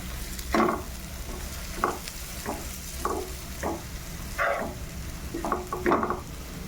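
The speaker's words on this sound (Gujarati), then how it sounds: "આપણે ગાજરની ખમણી સાથે બરોબર એને મિક્સ કરી લઈશું." Grated carrot chutney mixture stirred in a pan, a series of short scraping strokes that arrive in irregular bursts over a low steady background, close and moderately loud, with no voices.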